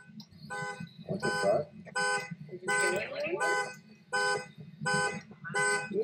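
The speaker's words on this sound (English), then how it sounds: "Who's blowing the car alarm off?" Car alarm in the horror game Phasmophobia, repeated pulsing electronic honks in a steady on-off rhythm, loud and close, with people talking over it.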